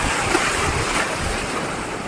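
Sea waves surging in at Ganga Sagar, a steady, loud roar of surf and rushing water filling the whole clip, with wind buffeting the microphone and no voices.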